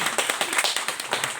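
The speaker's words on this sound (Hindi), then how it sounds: "इनके तो जोरदार तालियां।" Audience at a book launch ceremony giving a short burst of brisk, dense clapping, close and fairly loud, lasting about a second and a half without talk.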